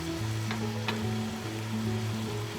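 Ground achari masala spices with red chilli sizzle in a hot pan, a steady close frying hiss with a couple of brief spatters and faint stirring, no voices.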